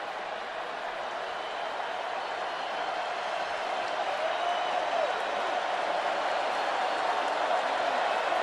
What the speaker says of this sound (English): if you were concerned about the crowd not being in the game, they just woke up